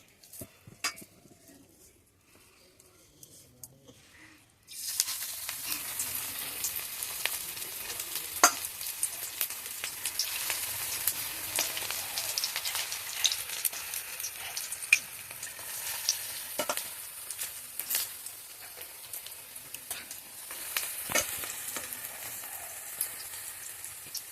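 Curry leaf and egg-onion pakoras dropped into hot oil: near-quiet at first, then a sudden steady sizzle with crackles and occasional utensil clicks that carries on close and even.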